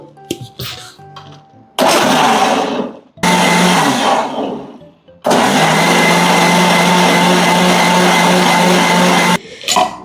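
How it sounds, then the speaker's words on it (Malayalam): A mixer grinder blends a bread and coconut pudding mixture in three loud, close bursts of whirring motor: a short one, a second fading out, then a long steady run before it cuts off. "ഇനി ഇത് നമ്മൾ നന്നായിട്ട് വേഗം മിക്സിയിലൊന്ന് അടിച്ചെടുക്കണേ."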